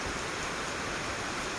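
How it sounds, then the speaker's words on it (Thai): Steady rain hisses in a constant wash of noise around an elephant, fairly soft, with no voices. "วันนี้ฝนตกเนาะ"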